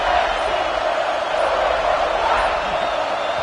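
A packed stadium crowd roars in an NCAA football video game at South Carolina, a dense, sustained wall of loud cheering noise that holds steady from start to finish.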